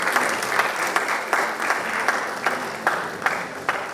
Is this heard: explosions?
no